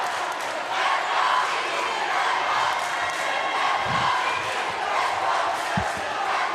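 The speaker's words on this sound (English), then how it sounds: "the Southwest crowd is here and ready to go too" A loud high school volleyball crowd backing Southwest roars steadily in a gym, a dense wash of cheering and shouting that holds throughout with a couple of dull thumps.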